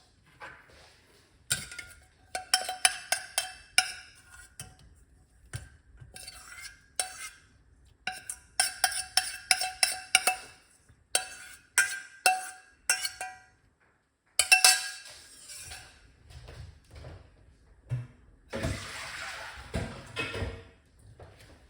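Clinks and knocks of glass and kitchenware sound in bursts as a homemade remedy drink is poured out, with brief splashing and a softer rushing pour near the end, no talk over it.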